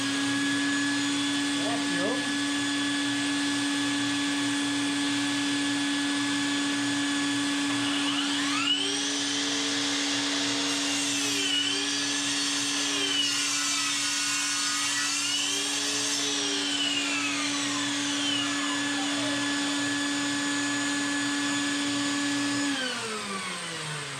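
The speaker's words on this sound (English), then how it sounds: "I'll be using my Ryobi battery powered saw on this to do a rough cut" A Ryobi battery-powered saw rough-cuts an oak board, its steady high whine running loud for about twenty seconds, with pitch dips and bends as the blade loads up in the wood before it spins down.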